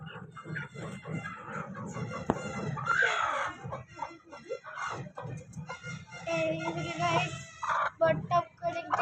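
A chicken clucks and calls close by, mixed with people talking and other farmyard noise.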